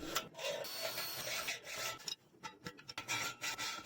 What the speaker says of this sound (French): Je vais couper, je marque à l'équerre et fais un premier trait de scie.